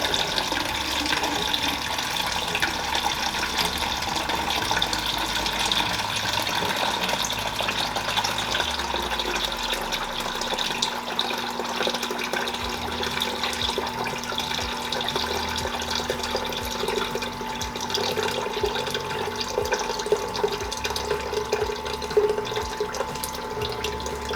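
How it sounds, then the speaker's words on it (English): Hot water poured steadily back into a pitcher, a continuous splashing, trickling flow that holds evenly for the whole stretch with no voices. "you want to slowly dispense the hot water back into your pitcher"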